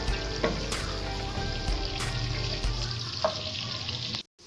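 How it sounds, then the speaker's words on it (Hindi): Onions sizzling in a pan for a dhaba-style lauki chana dal, a steady crackling fry with occasional stirring scrapes, then the sizzle cuts off abruptly near the end. "फिर अब हम इसमें प्याज डाल रहे हैं"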